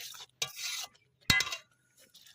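A spoon scrapes and stirs papaya ghanto with ghee in a pan, giving a few short clinking and scraping strokes separated by quiet gaps.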